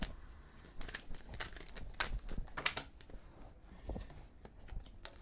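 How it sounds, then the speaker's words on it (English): Tarot cards are shuffled by hand as a rapid, irregular series of crisp riffles and papery slaps. The sound is quiet and close, with no voice. "Okay, I'm going to shuffle again. I have the cards."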